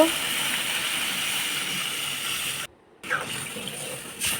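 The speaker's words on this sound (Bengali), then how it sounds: "আন্দাজ মতো জল দিয়ে দেব" Water poured into a pan of spiced curry paste for a hilsa fish, potato and eggplant curry, a continuous splashing hiss that cuts out briefly, then resumes more softly with some stirring.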